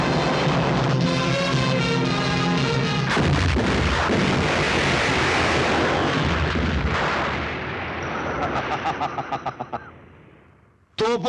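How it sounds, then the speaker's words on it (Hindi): Cannon fire in a historical film: a loud, rumbling barrage of booming blasts rolling on for several seconds, then fading with echoing reports, after someone speaks over music. "तोपों की गूंज सुनो उल्मा।"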